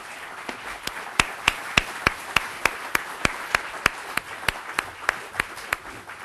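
An audience applauds Governor Jane Swift at an evening event in Kansas, a steady bed of clapping punctuated by sharp, evenly spaced louder claps that keep a regular rhythm for several seconds.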